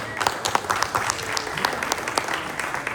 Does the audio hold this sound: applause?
yes